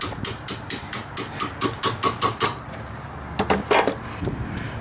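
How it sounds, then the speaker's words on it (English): A hammer lightly taps a torque strut bolt into place on a Chevy Impala, giving about a dozen evenly spaced metallic knocks up close, then a few sharper clinks and a low background hum. "Sometimes it's necessary to lightly tap the bolt in place."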